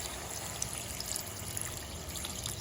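Water is poured into a cooking pot for tinola chicken soup, a faint, steady, even rush of liquid that continues without a break for a few seconds, with no talking.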